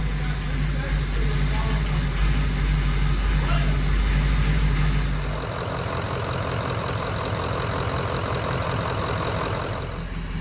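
A heavy 6.0 diesel engine with turbo and rebuilt short block, running for the first time, idles with a deep, steady low rumble, then shifts to a rougher, higher running tone partway through, continuing without voices.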